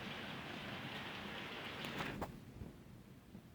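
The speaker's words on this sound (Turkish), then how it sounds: "Yağmurun sesi" Steady rain falls throughout, a dense hiss of drops pattering on a surface, with a couple of brief sharper taps near the middle.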